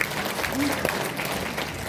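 An audience applauds at a Daejeon Yuseong lawmaker's 2024 public report meeting as guests are introduced, a steady wash of crowd clapping with a voice talking over it.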